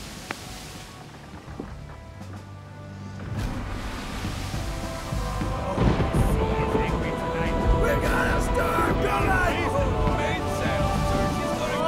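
Deep rolling thunder swells and rumbles for several seconds behind a spoken voice, growing louder and staying broad and heavy.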